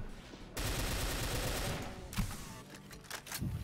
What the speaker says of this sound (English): This energy rifle isn't doing too good.